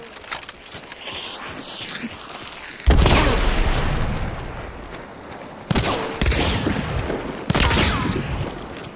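Video game gunfire, loud blasts arriving in a few heavy bursts with a booming low end, separated by quieter stretches of rattling game noise.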